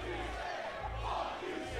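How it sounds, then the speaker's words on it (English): A wrestling crowd in Jersey City jeers a wrestler billed as the Invisible Man, a loud, continuous roar of booing and shouting from a packed arena. "Oh yeah, the crowd's giving it to him."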